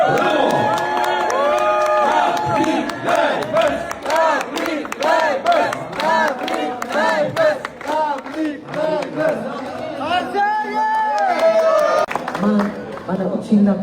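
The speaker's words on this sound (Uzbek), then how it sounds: "Qolganlarni olqishlab turamiz. Bravo!" Concert crowd at the close of a show cheers, whoops and applauds loudly and continuously, with shouting voices layered over the clapping throughout.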